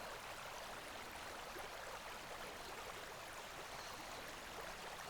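A gentle river in Costa Rica flows in a soft, continuous wash of water. It is faint and even throughout, with no voices.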